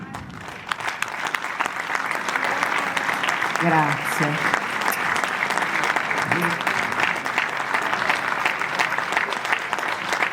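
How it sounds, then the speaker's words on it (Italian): A live audience applauds a singer with full, sustained clapping across the whole stretch, and a voice briefly speaks over it. "Un grande applauso"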